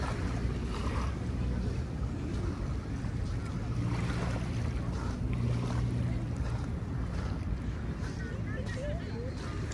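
A ship passes on Manila Bay, its wake washing in beneath heavy wind rumble, while people talk over the steady wash of water.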